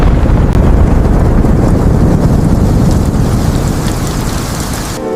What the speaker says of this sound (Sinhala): ඒත් එක්කම කුණාටුවක් එන්න පටන් ගත්තා